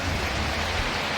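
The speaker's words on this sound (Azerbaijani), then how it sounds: "Sakit yağış." Gentle rain falls steadily in Shusha, Azerbaijan, a soft even broadband hiss with no distinct drops or voices.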